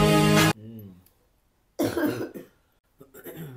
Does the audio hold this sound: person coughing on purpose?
yes